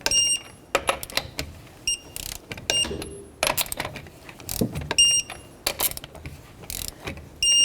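Wheel lug nuts on a 2006-2012 Toyota RAV4 being tightened with a torque wrench, giving a close run of sharp metallic clicks and ratcheting bursts in irregular groups with handling noise between them.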